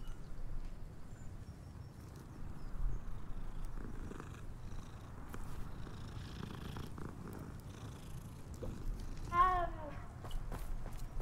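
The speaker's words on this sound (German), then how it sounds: "Katze." A cat in the Hogwarts Legacy video game purrs steadily over low game ambience, with a short meow rising near the end; footsteps and faint background sounds sit underneath.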